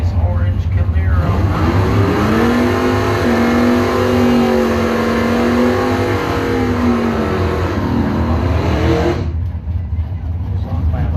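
A 1967 eight-piece orange Camaro drag racing down the strip at a Mopar bracket event, a loud sustained engine roar climbing in pitch as it accelerates, under an announcer's talk, then fading away.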